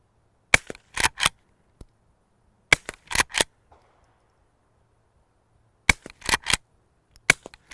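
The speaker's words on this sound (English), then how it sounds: "It's quieter shooting with a short can like this with no ear protection than shooting a center fire rifle with earmuffs on." Suppressed shots from a Henry Frontier lever-action rifle fitted with a short can, fired outdoors in clustered groups of sharp, snappy cracks separated by silence, close and fairly loud with no talking.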